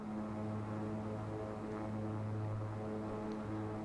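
Steady, loud drone of a Beechcraft King Air B350 twin turboprop engine in the X-Plane flight simulator, a continuous even hum with no voices.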